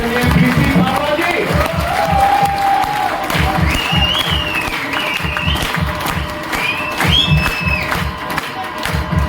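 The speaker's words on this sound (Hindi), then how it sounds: "आपकी तालियां बजती रहे, बहुत जोरदार तालियां" Applause from the audience at an RCM celebration program and seminar, sustained clapping with strong low thumps and cheering, while tonal voices or music rise over the crowd noise throughout.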